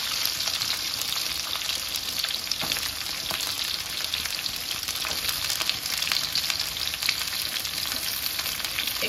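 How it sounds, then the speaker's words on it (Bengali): Ridge gourd and potato pieces fry in a pan with spices and green chillies, giving a steady, close hiss and crackle with occasional faint stirring ticks and no voices. "এরপরে এর মধ্যে ঝিঙে আলুগুলো দিয়ে দেবো।"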